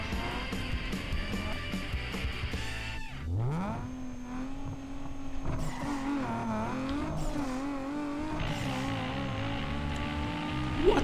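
A tuned car in Need for Speed Underground 2, rated around 405 horsepower, revs and accelerates hard on a test run, its engine note climbing through the gears with rising pitch sweeps and brief dips at each shift.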